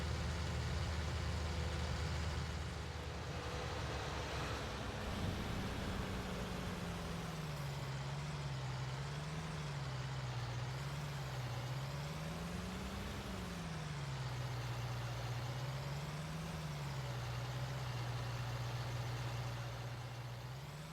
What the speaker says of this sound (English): This is a pretty buff sprayer.